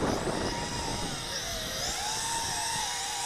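JJ R/C H26D quadcopter drone with prop guards, its motors driven to full throttle outdoors in wind: a loud, steady high-pitched whine with rising and falling pitch sweeps, close and continuous throughout.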